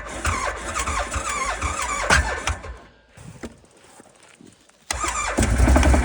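A cold engine cranks slowly on a winter morning, the starter grinding in a labored rhythm for about three seconds, pausing through a quieter stretch, then cranking again loud and close.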